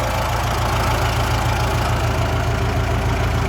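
A Kubota M9960D tractor runs with a noise from its transmission case, heard as a loud, steady low engine drone carrying an even, rapid knocking pulse throughout, heard close up.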